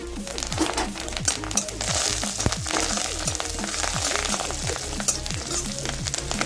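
Cumin seeds, dried red chillies and curry leaves fry in hot oil for jeera rice, giving a dense, steady sizzle with scattered popping crackles throughout.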